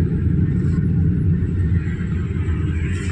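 Steady morning road traffic on a city street, a continuous low rumble of passing cars with no clear individual vehicles standing out, fairly loud and close throughout with no talking.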